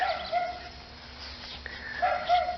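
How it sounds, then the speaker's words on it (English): A big dog barks in a backyard: two short, close bursts of barking, one at the start and one near the end, separated by a quiet stretch of faint outdoor background. "you can still see what a huge backyard this is, with Mandy the big dog in the way"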